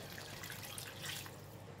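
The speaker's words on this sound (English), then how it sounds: "And I'm going to add some water." About 1.5 cups of water pours and trickles steadily into a pot of pork ribs curry, a constant close-up splashing with no voices.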